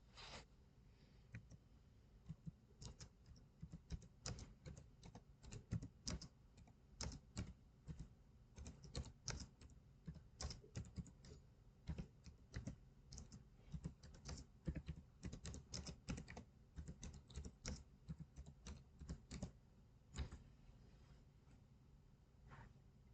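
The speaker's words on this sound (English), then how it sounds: "Now I typed something in and I got a response." Someone types a Google search on a computer keyboard, producing a steady run of quick, faint key clicks with short pauses, heard close-up and alone.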